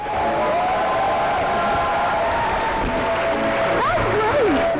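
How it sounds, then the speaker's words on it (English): Audience giving Dups a standing ovation at a Canada Day event: loud, sustained applause and cheering from a close crowd, with whoops and voices mixed in throughout. "We all gave Dups a big standing ovation."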